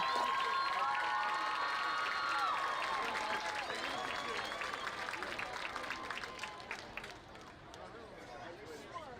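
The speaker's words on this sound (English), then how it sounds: "one more round of applause for our winners and all of our finalists" Crowd applause and cheering at a college homecoming football game, a moderate wash of clapping under a lingering announcer voice, gradually thinning and fading over the final seconds.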